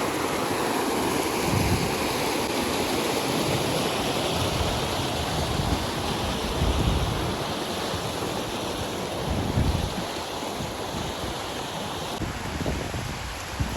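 Water rushes steadily over the outflow of Appalamma lake near Mudivedu, a broad continuous roar that stays close and loud throughout, with some wind buffeting the microphone and no talking.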